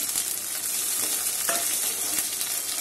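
Chopped tomato and ginger paste sizzle in hot oil, the frying hiss steady and close, with a few scraping stirs and clinks of the spatula.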